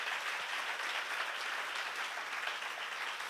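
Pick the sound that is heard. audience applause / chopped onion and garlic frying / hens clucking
audience applause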